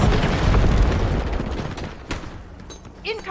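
A cluster grenade detonates in a first-person shooter match, a loud low boom with scattered follow-up pops fading out, while game voice callouts sound faintly underneath.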